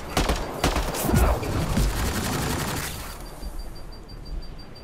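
Rapid gunfire in the sci-fi shooter Mass Effect: Andromeda, a loud burst of repeated shots for about three seconds, then fading into a quieter ambience with a faint repeating electronic beep.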